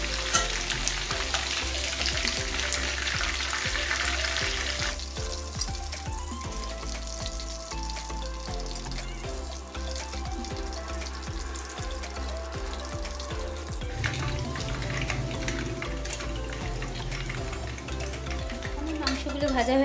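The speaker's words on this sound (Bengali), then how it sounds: "একটু লাল লাল করেই ভাজতে হবে মাংসগুলো।" Chicken pieces fry in a kadhai for chilli chicken, a dense continuous sizzle with crackling spatter heard close and loud throughout, while someone talks over it.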